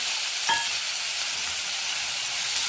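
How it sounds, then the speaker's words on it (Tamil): Small onions, tomato, tamarind and coconut sauté in a pan, giving a steady, even sizzle with one brief clink of a utensil near the start and no talk. "எல்லாமே நல்லா வதக்கலாங்க"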